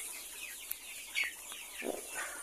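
Free-range native chickens cluck a few times at a moderate distance, fairly quiet over steady background hiss, with no voices.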